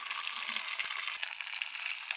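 Chopped onions and green chillies sizzle and crackle steadily in hot tempering oil, with a faint stir or two, quiet and close, with no talking.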